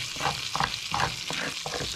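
A good-sized knob of butter melting in a pan, sizzling steadily with a few louder scraping or stirring bursts, close up and without talk.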